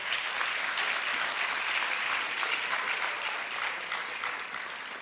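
An audience at a medical induction ceremony applauds, a sustained dense clapping that fills the hall and then begins to fade slightly.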